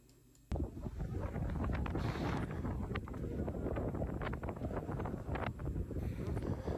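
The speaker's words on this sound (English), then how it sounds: "Here's more just wind." Intense wind roars and buffets a microphone outdoors during a dangerous fire, a loud continuous rush with irregular gusty thumps throughout.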